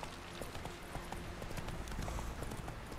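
Roach the horse's hooves clop at a steady trotting pace in The Witcher 3, a continuous rhythmic beat under game ambience, moderately loud and close.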